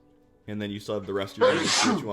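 A sneeze bursts out loudly near the end, right after a stretch of speech, with someone talking just before it.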